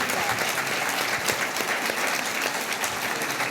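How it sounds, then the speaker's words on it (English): Dense, even audience applause filling a public conversation event on state politics, loud and continuous for a few seconds with no voices over it. "can we give all these folks a round of applause again for joining in?"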